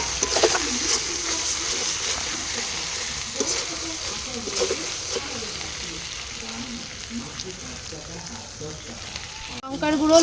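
Ginger, garlic and cumin paste frying in a pan over a clay stove on a rooftop, a continuous moderate sizzle with light stirring scrapes, a sharp clatter near the end.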